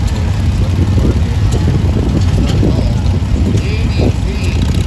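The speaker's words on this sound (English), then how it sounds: "on that John Deere garden tractor" A John Deere garden tractor engine drones steadily at an antique tractor pull at Aldergrove Fair, a continuous low rumble mixed with wind noise and a commentator talking over it.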